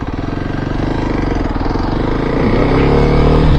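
Kawasaki KLX 300 motorcycle engine held at open throttle while riding, a steady loud droning roar that builds slightly in the last second, with no talking.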